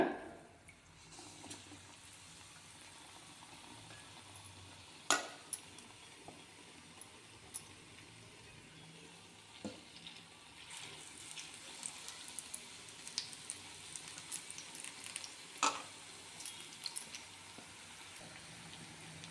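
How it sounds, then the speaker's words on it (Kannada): Spinach fritters coated in batter sizzle quietly in hot oil over a medium flame, a soft steady bubbling hiss broken by occasional sharp pops and crackles, with no voices. "ನೀಟಾಗಿ ಎರಡು ಕಡೆ ಗೋಲ್ಡನ್ ಕಲರ್ ಬರೋ ತನಕನೂ ಫ್ರೈ ಮಾಡ್ಕೊಳ್ಳೋಣ"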